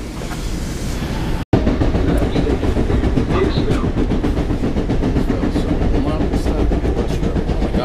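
An LIRR Main Line train with flat-spotted wheels rumbles along at close range, a loud continuous roll broken by a fast, regular clatter from the damaged wheels, and people talk faintly underneath.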